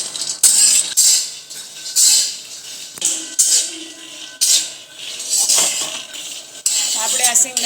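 Peanuts being dry-roasted and stirred in a pan on the stove, a steady close rattle and scrape of nuts and spoon against metal in repeated sweeps, with no gaps between them.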